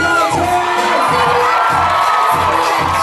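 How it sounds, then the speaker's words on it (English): A loud crowd of children and adults at a Bellerose bike-a-thon cheers, shouts and whoops for Beyonce, with a sustained roar and rhythmic chanting or stomping pulses underneath. "Make some noise for Beyonce!"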